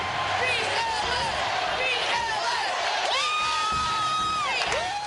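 Baseball crowd at AT&T Park roaring after a home run, loud sustained cheering with whoops and whistles all through, under a voice talking.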